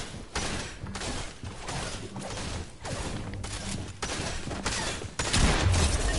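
Shotgun blasts in a video game, a series of separate sharp booming shots spaced roughly a second apart, close and punchy over faint background game noise.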